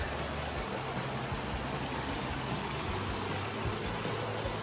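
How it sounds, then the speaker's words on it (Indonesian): A waterfall at Lubuk Terap campsite in Baling rushes in a steady, even wash of white-noise-like water sound, constant and moderately distant with no voices over it. "Bunyi air terjun."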